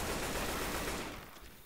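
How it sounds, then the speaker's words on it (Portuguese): Gunfire in the zombie shooter Left 4 Dead 2, a dense rattling burst of automatic shots that fades out over under two seconds, with no talk. "Eu acho que eles alertam os zumbis dando esses tiros aí."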